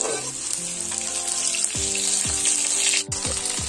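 Chopped onions and green chilies hiss in hot oil in a pot for a chicken curry, a loud continuous close sizzle with faint tonal background music underneath.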